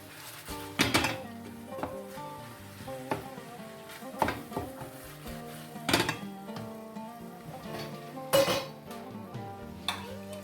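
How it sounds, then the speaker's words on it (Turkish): Meat for Ali Nazik kebab stirred in a pan with cumin and black pepper: a soft sizzle underneath, broken by intermittent clinks and scrapes of a utensil against the pan, close by and with no talking. "kimyon ve karabiberimizi ilave edip karıştırıyoruz"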